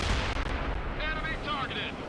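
Dense, loud gunfire and artillery blasts from the strategy game World in Conflict roar continuously over a constant battle din, with radio-style voices calling out briefly.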